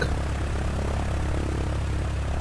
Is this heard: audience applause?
no